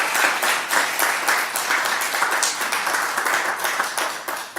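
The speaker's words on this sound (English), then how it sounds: "Can we have a round of applause for all the incredible work?" An audience gives a round of applause for committee members at a community gathering, with dense, sustained clapping from many hands that stays loud throughout and thins slightly at the end.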